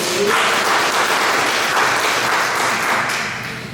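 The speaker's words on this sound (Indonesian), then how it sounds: "Tepuk tangan buat Tuhan." Dense, steady applause from a church congregation fills the space, loud and sustained throughout before tapering slightly at the end, with faint voices mixed underneath.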